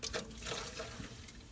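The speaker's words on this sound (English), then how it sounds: "I'm gonna add a little bit of water to our water pan here just to keep it going." Water is poured into the water pan of a smoker while pork ribs and chicken legs cook, a close, steady trickle and splash lasting under two seconds.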